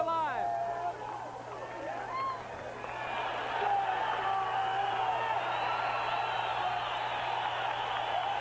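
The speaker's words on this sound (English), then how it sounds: "Roberto Duran makes his way into the Cobo Arena, and the crowd comes alive" A boxing crowd inside Detroit's Cobo Arena roars as Roberto Duran enters for his bout with Kirkland Laing, a dense and continuous wall of cheering with whoops and shouts near the start.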